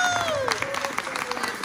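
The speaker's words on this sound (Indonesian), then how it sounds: "Tepuk tangan sekali lagi buat Mas Zoyok." A short burst of audience clapping at a cast and crew group screening of the film Ritual Berdarah, with crowd noise and tonal sounds layered over the patter.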